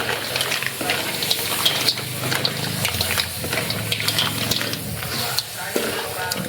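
Clean water poured into a mix during repair work on a farm bathroom: a continuous splashing, hissing pour under steady background noise and faint voices.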